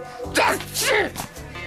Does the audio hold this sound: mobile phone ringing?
no